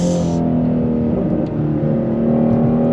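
A 2020 Shelby GT350R V8 engine revs hard and loud to 8250 rpm, holding a deep, steady roar with rich harmonic growl throughout.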